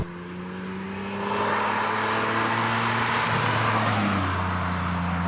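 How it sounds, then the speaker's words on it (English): A Ferrari 456 V12 engine pulls from inside the car, starting as a steady drone and then swelling into a louder, sustained hum as it accelerates. "That engine is quite something, that V12."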